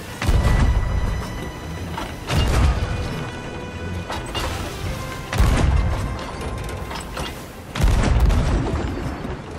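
Cannons firing cannonballs in Sea of Thieves: four heavy, booming blasts roughly two to three seconds apart, each with a long rumbling decay and crashing tail, loud and close, with no talking.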